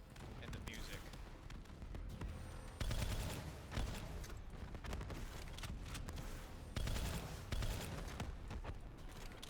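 Dense, continuous gunfire from Black Ops 3 combat rattles throughout, with bursts and sharp cracks layered over music and voices in a chaotic firefight.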